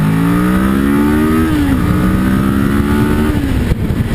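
A 2012 Kawasaki Ninja 650 motorcycle pulls away at full throttle from 0 to 60, its close, loud engine climbing steadily in pitch through two gear changes and a rising whine.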